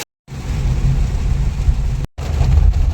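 Heavy rain as a car sets off, a loud dense roar close by that cuts out twice into silence, with low rumbling underneath.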